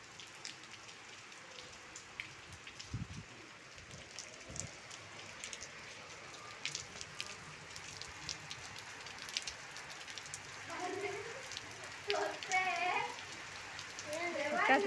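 Rain falls during a morning walk as a steady patter of drops hitting surfaces, and voices join in talking toward the end.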